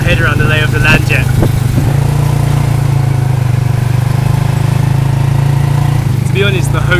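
A tuk-tuk engine chugs steadily while riding through a Cambodian town, a close, continuous low rumble heard throughout, with voices talking over it at the start and again near the end.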